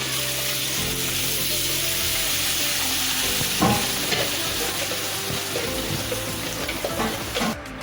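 Steady frying sizzle of onion-tomato paste in a wok for pav bhaji, with occasional scraping and stirring knocks, close by and fairly loud throughout.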